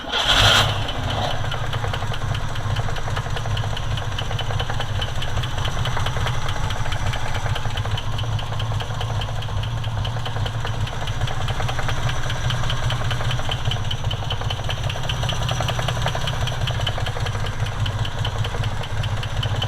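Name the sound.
1970 Jeep Jeepster Commando Buick Dauntless V6 engine starting and idling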